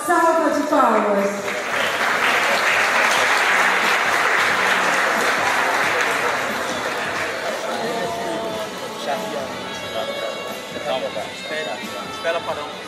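Warm applause from a seated audience at a diploma ceremony for members of a literary academy, a dense steady clapping that starts loud and gradually thins out, with voices chattering underneath.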